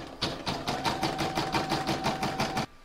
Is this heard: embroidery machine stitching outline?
yes